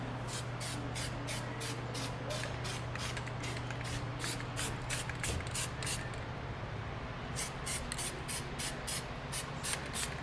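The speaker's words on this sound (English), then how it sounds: "spray all that with some Steel It" Short regular bursts from an aerosol can spraying Steel It rust-preventive coating on axle hardware, hissing in steady pulses with a brief gap midway, over a constant low hum.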